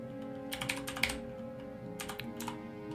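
Typing on a computer keyboard: two brief bursts of rapid, close key clicks separated by a quiet pause, over a steady low electrical hum with no voices.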